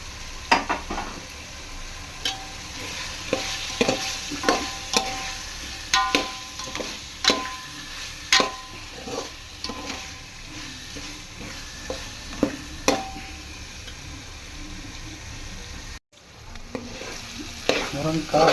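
Marinated drumsticks (murungakkai) coated in masala sizzle steadily in a pan for biryani, with repeated scraping and clinking of a spoon as they are stirred, close and continuous.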